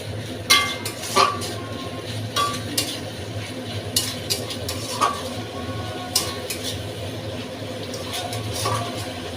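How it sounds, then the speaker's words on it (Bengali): Spice paste fries in oil while a spoon stirs it, making repeated metallic clinks and scrapes against the pan over a low, steady sizzle, close by. "সেই মশলাটা আমি এই তেলের মধ্যে দিয়ে দিলাম। তো এটা আমি ভালোভাবে দিয়ে দিয়েছি বন্ধুরা। একটু আমি নাড়িয়ে চাড়িয়ে এটা ভেজে নেব"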